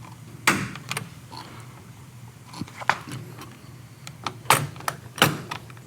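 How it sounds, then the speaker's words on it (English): Casement window arms being connected from the frame to the sash, a series of sharp metallic clicks and taps with faint creaks, irregular and close, over a quiet room with no talking. "I'll now continue connecting the rest of the arms from the frame to the sash."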